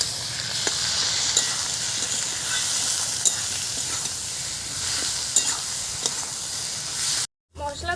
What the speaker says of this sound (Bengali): এবার যে মশলাটা বাটলাম আর চিংড়ি মাছ বাটাটাও কিন্তু দিয়ে দিলাম। পরিমাণ মতো হলুদ গুঁড়ো, একসঙ্গে এটা কিন্তু ভালো করে কষে নিতে হবে।